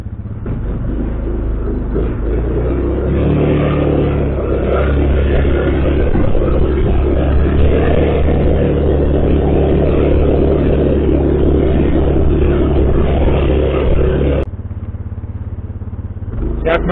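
A Yamaha Grizzly 660 ATV, freshly repaired, drives off with a loud, close engine rumble that stays steady for about fourteen seconds and then drops away abruptly.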